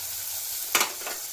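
Water hits a hot pan while Maggi noodles are being made with tomato, sending out a sudden short hiss that quickly fades back to a low, quiet sizzle.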